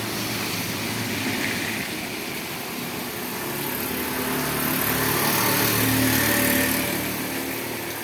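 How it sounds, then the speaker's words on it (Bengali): Engines of traffic vehicles, including trucks, pass along a road on a rainy evening, a continuous droning hum that swells and fades as vehicles go by, moderately near, with no talk. "ট্রাফিক গাড়ি যাচ্ছে এদিকে।"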